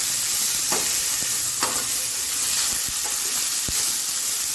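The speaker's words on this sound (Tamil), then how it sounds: "அதையும் போட்டு ரெண்டு திருப்பு, இப்படி 2 திருப்பு, அப்படி 2 திருப்பு திருப்பிட்டு பாத்திரத்தை ஆஃப் பண்ணிடலாம்" Ingredients being stirred and turned in a hot kadai, a steady loud sizzle and hiss with a few soft scraping knocks of the spoon against the pan.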